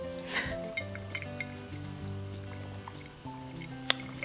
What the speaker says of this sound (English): Give it a good stir, and boom goes the dynamite.